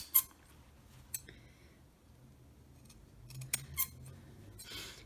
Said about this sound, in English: we are going to trim these corners out.